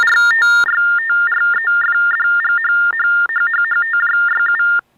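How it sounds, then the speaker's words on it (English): Rapid TTY Baudot electronic tones warble between two pitches in quick, uneven bursts, loud and close, with a short buzzy start and no voices. "you might hear the user pressing the spacebar or other keys that'll generate Baudot tones"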